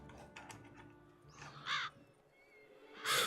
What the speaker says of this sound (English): Ooh, a lot of crows.